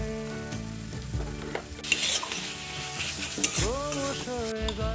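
Spice masala with ground black pepper frying and being stirred in oil, a steady close sizzle with scraping stirs throughout, joined by harmonic background music that rises partway through.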